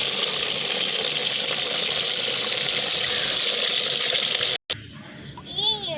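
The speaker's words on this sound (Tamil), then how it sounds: "எப்படியோ தண்ணி திறந்தாச்சு ரோஸ்." Water runs from a toy tap in a steady hiss that stops abruptly near the end, followed by brief child-like voices and small mechanical sounds.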